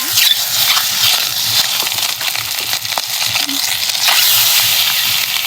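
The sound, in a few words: eggs frying in hot oil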